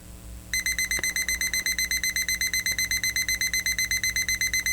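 A crafting timer alarm beeps in a rapid, regular series of bright electronic pulses, about six per second, starting abruptly and continuing loud and steady to the end.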